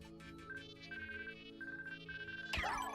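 An old home phone found as an item in the Pikmin 3 Deluxe video game gives off a repeating electronic ringtone in short pulses over game music, ending in a sudden bright swirling effect.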